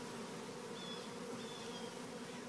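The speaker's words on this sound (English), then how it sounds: "The little bees standing out here in front fanning are sending the message" Honey bees buzzing and fanning at the entrance during a live hive removal, a dense steady drone close by with no talking.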